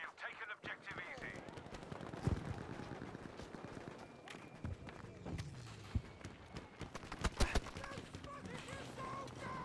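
Gunfire in a first-person shooter game, with scattered single shots and short bursts at various distances, heard under steady background noise and game chatter.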